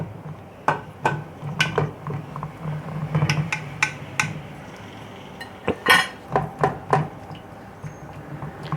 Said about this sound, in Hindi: 2 कांटों की मदद से इसको अच्छी तरीके से ऐसे करके आपने गोद लेना है